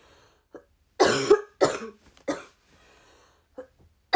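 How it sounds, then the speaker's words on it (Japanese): Several harsh coughs close by, a few in quick succession, separated by short silences with a small throat-clearing sound between. "咳がやばい。"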